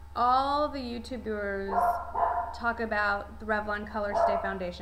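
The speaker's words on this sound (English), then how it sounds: "So excuse the barking Westies and Weimaraner in the background" West Highland terriers and a Weimaraner bark repeatedly in the background of a home, sharp yips and barks in quick bursts under someone talking.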